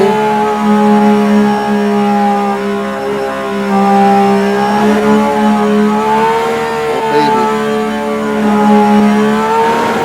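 A 1000-horsepower car called JockStrap accelerates hard with its turbo engaged, a loud, steady engine drone with strong harmonic whine rising and holding throughout, close up and continuous with no talk.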